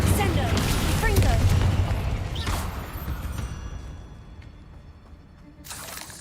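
A Confringo fire-blast spell in Hogwarts Legacy bursts with a loud, rumbling boom that fades over several seconds amid mechanical clatter, with a voice speaking over it.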